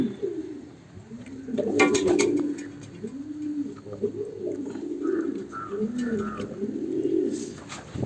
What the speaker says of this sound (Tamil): இந்த ஒரு புறா மட்டும் இங்கே வச்சுருக்கேன்.